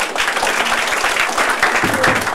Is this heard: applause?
yes